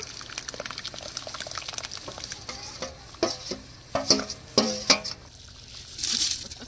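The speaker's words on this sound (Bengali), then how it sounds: "এবার পেস্ট করা মশলা দিয়ে এখনো 15 মিনিট মতো কষিয়ে নেব" Meat sautéing with a ground spice paste in a pan, a continuous close sizzle with bursts of stirring scrapes and clatter in the middle, then a brief wet hiss near the end.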